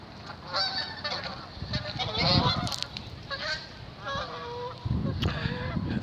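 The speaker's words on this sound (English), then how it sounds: "The geese are getting themselves in shape because here in Canada they're going to start flying south in the next 6 weeks" Geese in Canada honk repeatedly in a busy, overlapping chorus of calls at close to middle distance, over an open outdoor background.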